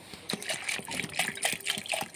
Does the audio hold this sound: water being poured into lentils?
yes